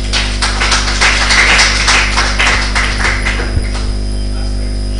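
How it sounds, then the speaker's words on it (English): Audience clapping at a live-streamed church ministering service, a run of scattered claps over steady mains hum, fading after a few seconds. "Clap for me now."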